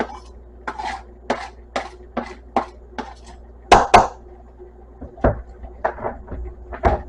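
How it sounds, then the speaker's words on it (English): A spoon scrapes and knocks against a pot of chunky chili in about a dozen separate clinking strokes, close and fairly loud, with short pauses between them and no talking. "Give this a stir."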